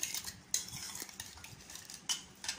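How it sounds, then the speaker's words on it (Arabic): A utensil stirs a milk bread mixture in a bowl, producing close, soft scraping and clinking with sharper taps against the bowl at irregular moments. "انا هقلبها كده مع بعض كويس قوي"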